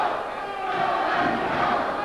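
An indie wrestling crowd roars and cheers in a packed venue, a sustained loud wash of many voices that swells slightly midway.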